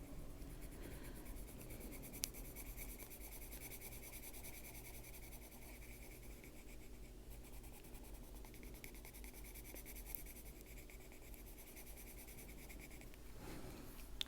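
Derwent Artists colored pencils scratch steadily across paper in a continuous soft rubbing rasp. The strokes are faint and even with no talking, while a quiet background hiss runs under them.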